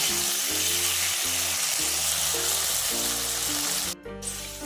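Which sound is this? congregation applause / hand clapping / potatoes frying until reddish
potatoes frying until reddish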